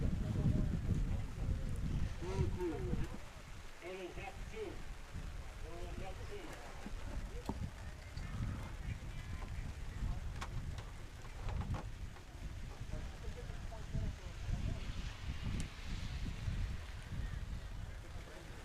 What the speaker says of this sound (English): That was the little freak rainstorm that came through.